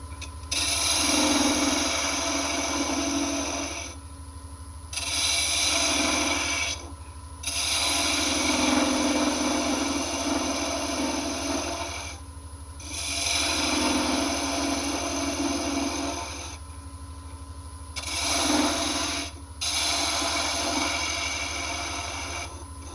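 A wooden Christmas ornament spins on a lathe at about 1,300 RPM while a tool scrapes it in repeated passes. A steady motor hum runs throughout, broken by short pauses between the rasping cuts.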